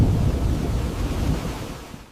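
A thunderstorm rumbles with deep, rolling low thunder and windy, surf-like noise, loud and steady before slowly fading out toward the end, with no voices.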